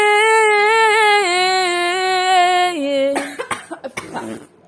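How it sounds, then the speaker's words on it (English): A drawn-out voiced tone that steps down in pitch, then a quick run of several short, harsh coughs close to the mic. "Yeah, I'm coughing."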